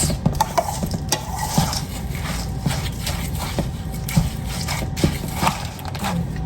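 Partially thawed hash browns are stirred for a casserole, making repeated scraping and scratching strokes against the bowl, with light irregular clicks of the utensil, close and clear, and no voices.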